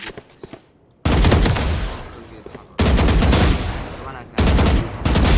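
Loud automatic gunfire from Valorant in sustained bursts, with three long sprays separated by brief pauses and no voices over it.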